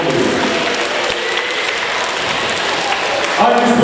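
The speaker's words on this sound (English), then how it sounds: "Give yourselves all a fabulous big round of applause." Children and adults at a school Harvest Festival applauding together, a steady, fairly loud wash of many hands clapping that holds throughout, with a voice briefly rising over it near the end.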